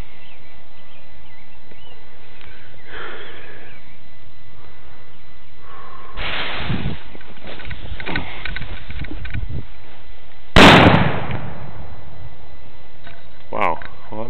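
A cherry bomb firecracker goes off inside a plastic bottle in a bathtub, one sharp loud bang near the end after scattered rustling and muffled handling sounds, with a voice speaking briefly beforehand.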